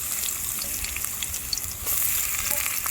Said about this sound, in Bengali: এখন আমি তেলানির পেঁয়াজটাকে ভেজে নেব বাদামি করে।